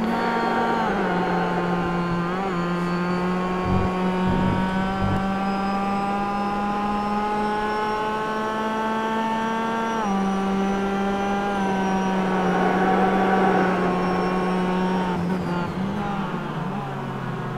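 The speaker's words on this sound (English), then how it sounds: "we have car footage from within Jonathan Johansson's car" Onboard at Oulton Park, a race car's engine drones loud and close, holding a steady pitch with shifts up and down through the gears and occasional engine-note changes over about seventeen seconds, with no voices.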